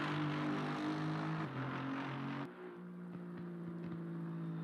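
Race car lapping Spa in Assetto Corsa Competizione, a sustained engine note that shifts pitch as it changes gear, then drops to a quieter, steadier tone partway through; no talking.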